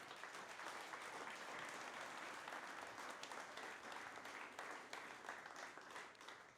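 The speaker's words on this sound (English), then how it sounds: "Can we give them a round of applause for sure?" A round of applause from the audience at a lunch-and-learn talk on starting a business, an even, continuous patter of clapping hands heard from a distance and fairly quiet throughout.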